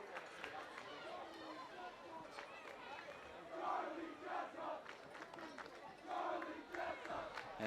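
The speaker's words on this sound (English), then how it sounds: "Just chanting out every senior on senior night." Football crowd in a stadium student section on senior night chanting players' names in rhythmic bursts of massed voices, rising and falling across the stretch over a background of crowd noise.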